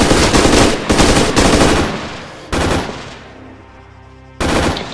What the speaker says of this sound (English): Open fire, engage.